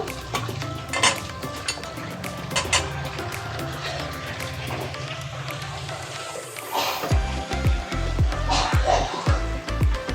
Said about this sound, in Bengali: তরকারিটা ফুটে গেছে, আমি এবার একটু ঢেকে দেবো।